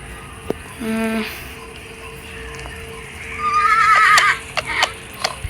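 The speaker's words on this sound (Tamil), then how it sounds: "என்ன குதிரை சவுண்ட்லாம் கேட்குது குதிரை வந்துட்டானா" A horse in the video game 99 Nights in the Forest whinnies loudly and briefly, followed by a higher, brighter neigh and a few sharp hoof clops, with a steady tone humming in the background.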